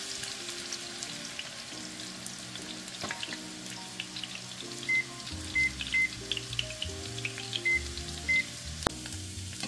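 Onions frying in oil over medium heat for bereshta make a gentle, steady sizzle with soft crackles, joined by a few short beeps partway through and no speech.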